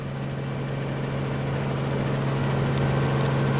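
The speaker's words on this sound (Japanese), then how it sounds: "ただいまヘリは飛び立ちました" A helicopter's steady rotor thrum and engine drone, loud and close, continuing evenly throughout with a strong low hum as it flies from Saga Prefecture toward Fukuoka, Japan.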